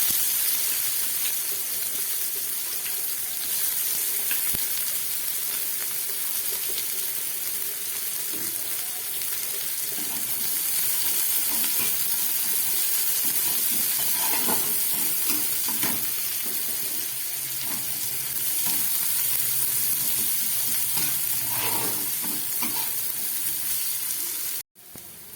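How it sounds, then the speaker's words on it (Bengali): Chopped onions and white cumin seeds fry in oil in a pan, a steady, close hiss and sizzle running throughout with occasional crackles, ending abruptly near the end. "এই তেলের মধ্যে আমি একটু সাদা জিরে ফোড়ন দিলাম। আর দিয়ে দিচ্ছি এই কেটে রাখা পেঁয়াজ।"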